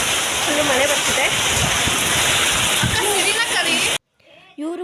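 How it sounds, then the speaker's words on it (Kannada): Heavy downpour roaring as a dense, steady wash of rain close by, with voices talking over it, cutting off abruptly near the end before faint chatter resumes. "ಮಳೆ ಜೋರಾಯಿತು, ಫುಲ್ಲು ಮಳೆ ಬರ್ತಿದೆ"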